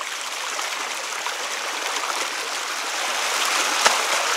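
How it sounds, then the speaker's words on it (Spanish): Water of the Batán river rushes past close by in a steady, full hiss that grows slightly louder toward the end, with one brief sharp tap near the close. "Miren la cantidad de agua"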